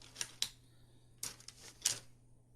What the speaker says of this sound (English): let's cut out both N1 parts